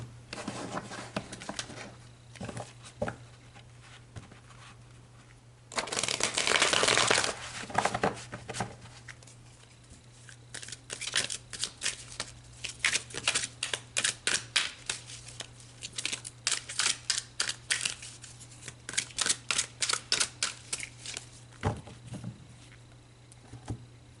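Tarot cards shuffled by hand, a burst of riffling followed by a long run of quick, rhythmic card slaps and flicks, close and clear over a faint steady hum, no voices.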